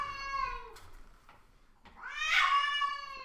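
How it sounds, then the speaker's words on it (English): Cats fighting outdoors, a neighbour's cat and a house cat, giving two long, harmonic yowling wails, the second rising louder and harsher, with a gap of quiet between them and no talk. "Listen to this cat fight out here."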